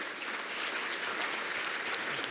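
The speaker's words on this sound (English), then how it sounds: "A big round of applause," Steady audience applause at the 2019 Niagara Economic Summit, a dense, even wash of many hands clapping that holds at one level throughout, fairly distant and without speech.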